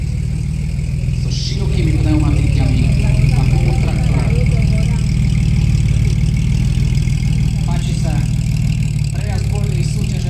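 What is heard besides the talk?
vintage Tatra car engine idling at rally start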